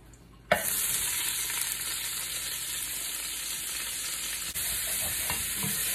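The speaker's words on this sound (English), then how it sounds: "Notice I'm scraping up all of those bits on the bottom of the pan to get with the onions." Browned beef bits being scraped off the bottom of a pan with onions in olive oil: a sudden loud sizzle kicks in and holds steady, with faint scraping and stirring scuffs over the frying hiss, no talk.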